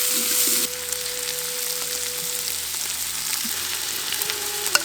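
Onions with turmeric fry in a pan, giving a steady close sizzle with faint stirring scrapes and no talking.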